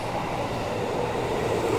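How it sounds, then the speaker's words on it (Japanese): A JR 211 series local train pulls into a station, a steady close rolling rumble and broadband wheel noise with no voices over it. "僕がね、乗る特急列車の前に普通列車が来たので、それだけちょっと撮影しました。"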